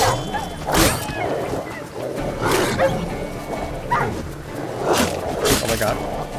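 Dogs in The Witcher 3 bark repeatedly in sharp bursts, some yips mixed in, amid game noise and a voice talking over them.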